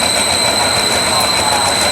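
Suburban train 341 from Bangkok to Kaeng Khoi passing Chiang Rak Noi station, a close, loud, steady rumble and rattle of rolling cars with a high wheel squeal ringing over it.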